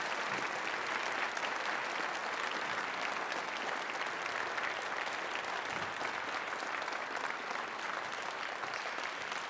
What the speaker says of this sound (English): Will you please give these folks a round of applause?